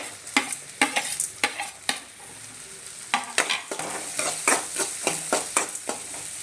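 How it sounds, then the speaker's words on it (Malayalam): Green chilies, ginger and onion stir-fried in a hot pan give a continuous sizzle broken by repeated sharp spatula scrapes in an uneven rhythm, close and clear with no speech. "ഇഞ്ചിയും ഉള്ളിയും എല്ലാം നല്ല മൂത്തിട്ടുണ്ട്."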